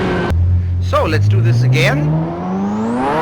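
Turbocharged Ferrari F40 engine revved at full throttle during drift practice, its pitch climbing steadily in one long, loud pull while someone talks over it.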